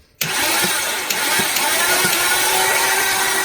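A car engine with its spark plugs removed cranks over suddenly and keeps turning in a fast, even whir with rhythmic pulses, loud and close, never catching.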